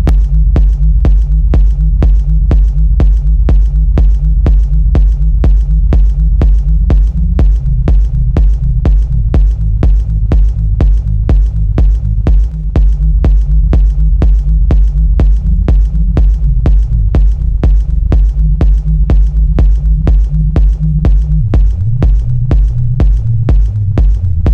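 A techno rumble kick built in FL Studio thumps in a fast, steady four-on-the-floor pulse, each hit trailed by a deep droning low-end rumble that shifts pitch slightly near the end, loud and alone.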